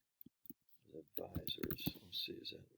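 A few quick clicks from a computer keyboard as a search is typed, followed by someone talking over the last of the keystrokes.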